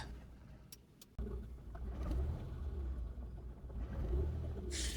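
A ZAZ Sens car engine idling roughly during auto-calibration, a low, close rumble that jumps louder after a sharp click and keeps running unevenly, with a faint hiss at the end.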